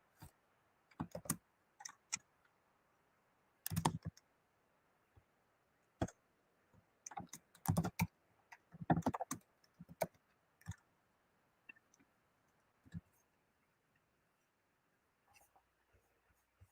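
Keyboard keys clatter in scattered short bursts and single taps while someone types out a grocery-list program, with long quiet gaps between runs of keystrokes.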